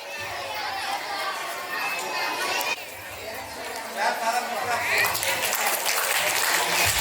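An audience at a school annual day celebration claps to honor the chief guests. The applause is steady and grows denser and louder toward the end, with chatter and children's voices mixed in.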